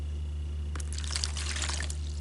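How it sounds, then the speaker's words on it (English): About half a cup of cold water poured into a bowl, a soft trickling splash that starts partway through and continues steadily over a low steady hum, with no talking. "I have about half a cup of cold water. I'm just gonna pour it right on into my bowl."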